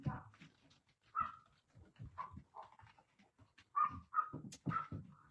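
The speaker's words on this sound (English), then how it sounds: "Sorry about the dogs," Dogs whimpering, whining and giving short barks indoors, an excited, restless run of yelps and panting sounds that fills the whole stretch.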